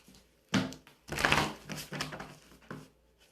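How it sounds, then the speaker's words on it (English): Tarot cards are shuffled by hand in a few quick, soft riffling and tapping bursts, close and fairly quiet, with no talking. "Last shuffle."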